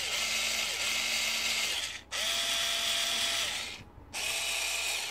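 A cheap electric screwdriver whirs steadily at its top speed in two long bursts separated by a brief stop, with a short pause before it spins up again near the end; the close motor whine sounds alone.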